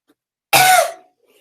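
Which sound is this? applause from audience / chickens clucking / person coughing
person coughing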